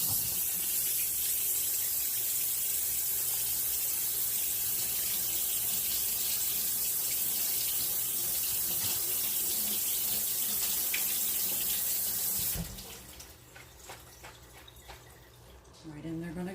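Water from a kitchen tap runs steadily over drained canned Great Northern beans being rinsed, a close continuous splashing that stops abruptly near the end, followed by faint clatter.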